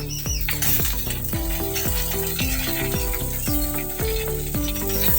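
Radish, eggplant and green banana hit hot oil in a frying pan and sizzle steadily, with continuous frying hiss running under a rhythmic tonal backing throughout.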